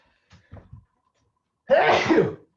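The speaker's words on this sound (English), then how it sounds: "I think I'm gonna sneeze." A single loud, close sneeze bursts out after a few faint breathy sounds, ending a quiet moment.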